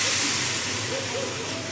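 Boiled lentils hit hot, fried spice masala for dal tadka and burst into a loud, close hiss of sizzling steam that holds strong and fades only slightly over a couple of seconds.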